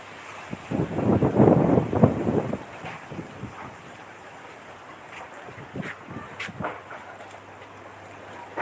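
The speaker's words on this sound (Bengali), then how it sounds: "প্রচুর বাতাস" Strong wind gusts outdoors ahead of an evening storm, with a loud buffeting rush early that eases into a fainter, fluttering roar with scattered bumps.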